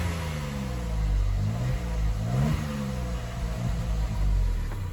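A Toyota Yaris MK2 with a raspy 8-valve engine and a faulty sensor, revving close up: a steady rumbling idle rising and falling in short blips, harsh and buzzy with no talk over it.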